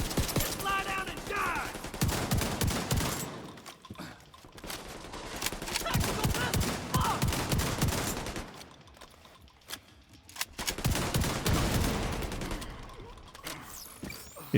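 Repeated shotgun blasts from a video game boom in loud clusters over about fifteen seconds, broken by quieter gaps, with mechanical clicks and faint talk now and then.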